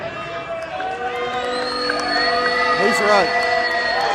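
A wrestling crowd at a New Era Wrestling event cheers, whoops and shouts throughout, loud and steady with a swell near the end, while someone speaks briefly over the noise.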